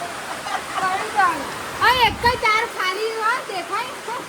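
Heavy rain pours down in a steady wash behind voices, including a child's, that talk and exclaim over it for most of the stretch.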